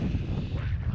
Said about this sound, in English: you can't hear me properly because of the wind